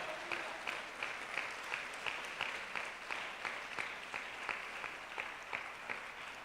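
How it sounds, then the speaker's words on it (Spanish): Congregation applauding during a church service, a steady, dense patter of hand claps with rhythmic accented beats throughout, moderately distant and without talk. "denle ese aplauso al Señor"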